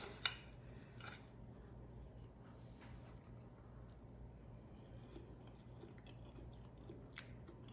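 Close, soft chewing of a zucchini fritter made with egg and cheese, a steady moist mastication with a few brief crunchy bites and no talking.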